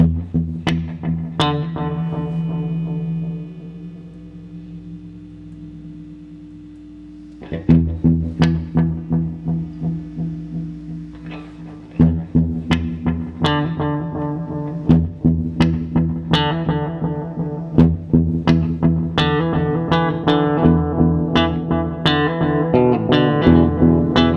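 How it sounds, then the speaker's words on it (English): Guitar notes run through a VFE Yodeler delay and reverb pedal, each repeat carrying its own reverb: a sustained chord rings and decays, then rhythmic plucked chords trail into layered echoes. "There's a very quick, very rough demo of the Yodeler delay verb"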